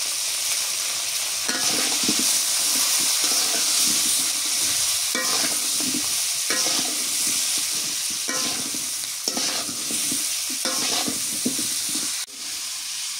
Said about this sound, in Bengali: কাঁচামরিচ দিয়ে পটল ভাজা ভালো হয়।